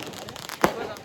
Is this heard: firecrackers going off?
yes